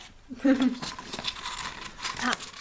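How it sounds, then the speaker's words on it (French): Paper crinkles and tears briefly while a small gift poster is unwrapped, with soft rustling bursts and voices murmuring close by. "Un petit poster, tiens, je te laisse le déballer."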